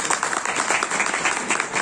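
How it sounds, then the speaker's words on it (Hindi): An audience claps in applause at a Hindi religious gathering about Shani Dev, a dense, even patter of many hands lasting under two seconds. "तालियां बजा दें।"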